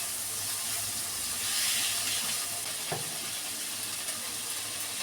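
Onion, tomato and capsicum fry in a pan for an egg paneer roll, giving a steady broadband sizzle with a faint clink around the middle, with no one speaking.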